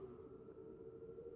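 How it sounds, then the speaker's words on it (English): A steady, droning civil defense siren tone holds at one pitch throughout, faint and distant, with no voices, during a monthly noon alarm test. "sirens are going off whenever there is danger, and once a month on Monday at noon they test it"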